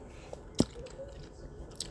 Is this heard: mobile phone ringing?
no